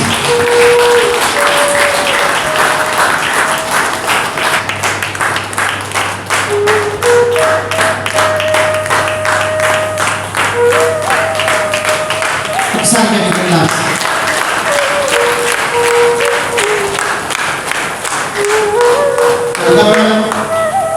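A crowd claps loudly to welcome Dr. P. Varalakshmi to a spiritual talk in Guntur. The clapping is sustained and rhythmic for about twenty seconds, with a melodic tone running beneath it.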